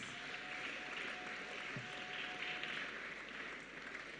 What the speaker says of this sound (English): I would like us to clap and welcome Archbishop Porter Girls.